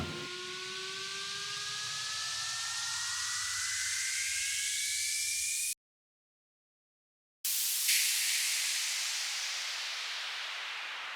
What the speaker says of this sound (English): then we have a riser and another one